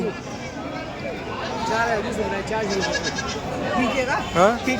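Several goats bleat repeatedly over a noisy crowd at a goat market, with people talking and calling nearby throughout.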